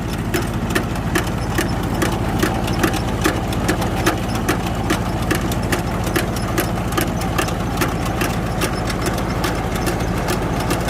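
The diesel engine of a Kubota R1 combine harvester idles nearby, a steady low rumble with a fast, even clatter repeating throughout.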